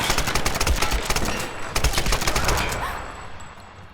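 Rapid automatic gunfire from the 2013 Tomb Raider video game, a sustained stream of sharp bursts with short pauses, loud and close, trailing off toward the end.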